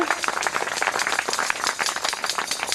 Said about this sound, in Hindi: बहुत बहुत तालियों से हम बधाएंगे